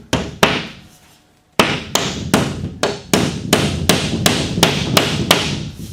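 Nails are hammered to tack drywall onto a 2x4 stud: loud, sharp strikes, two blows then a pause, then a quick steady run of about a dozen, with no talk.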